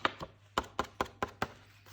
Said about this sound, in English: as this is the sound of a normal page,